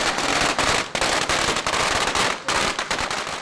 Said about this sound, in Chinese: 用炮仔声宣告元宵节兼水风炮活动开始，第一座炮声嘛伫个庙口正式起炮